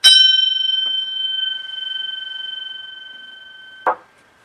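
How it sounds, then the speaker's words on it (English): A gong struck once for centering before a tarot reading rings out with a bright, sustained tone that slowly fades, followed by a second soft strike near the end. "I want to do a gong and to center myself and reading."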